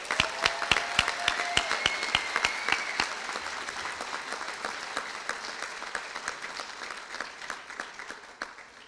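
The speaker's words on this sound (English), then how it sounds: "Please, let's have a round of applause for Dr." An audience claps at a college commencement ceremony, with dense sustained applause that starts strong with sharp individual claps and gradually thins and fades over several seconds.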